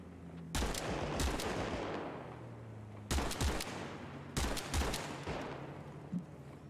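Bursts of rapid gunfire in the WWII-themed video game Arma Reforger, three clusters of close, loud shots separated by brief pauses.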